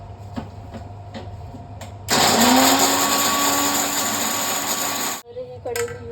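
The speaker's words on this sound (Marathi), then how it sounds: "खोबरं इथे आपण वाटून घेऊ." A mixer grinder whirs loudly as it grinds coconut, starting abruptly after a few quiet taps and clicks, running as a steady motor hum with rising whine for about three seconds, then cutting off before brief clatter.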